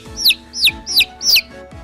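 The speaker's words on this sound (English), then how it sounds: "This is chick." A farm chick gives four quick, high-pitched chirps in an even rhythm, each a short sharp peep sounding close and clear with nothing else around it.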